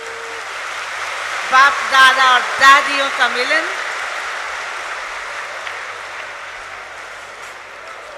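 An audience at a large gathering claps with a dense, steady roar of applause. A voice speaks over the clapping through the middle before the applause carries on alone.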